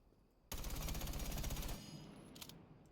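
Sustained automatic rifle fire with no compensator or flash hider in Rainbow Six Siege, a loud rapid burst of about 1.3 seconds followed by a fading tail and a couple of faint later shots.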